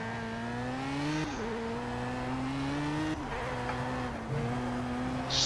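An Audi race car in Project Cars, held in fourth gear with its wheels spinning: the engine drones loudly and steadily, its pitch dipping and climbing again several times as the revs rise and fall, with no voices over it.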